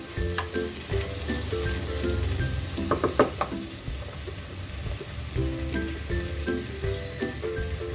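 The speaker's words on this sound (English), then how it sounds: "Again, we will fry the hyacinth beans in the same oil for a few seconds." Hyacinth beans fry in hot oil in a home kitchen, a steady crackling sizzle with brief bursts of louder spitting and occasional stirring clatter.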